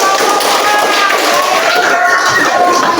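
A classroom of primary schoolchildren claps together in a dense, loud, rapid patter of many hands that runs steadily for a few seconds, with voices mixed in.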